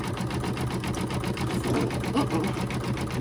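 A machine embroidering an Easter table runner stitches steadily at close range, a fast, even needle rhythm running without pause, with no voices over it.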